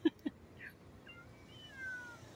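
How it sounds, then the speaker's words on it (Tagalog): A cat hungry for food gives a couple of short meows up close, followed by quieter drawn-out mewing sounds in a faint room. "Meow! Meow! Meow!"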